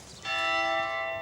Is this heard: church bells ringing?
yes